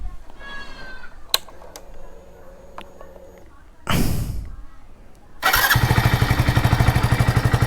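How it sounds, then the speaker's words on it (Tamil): A motorcycle engine started after a power upgrade, with clicks and a brief cranking attempt, then a second crank before the engine catches and settles into a loud, rapid, steady idle close by. "வண்டியை ஸ்டார்ட் பண்ணி பார்த்துருவோம்."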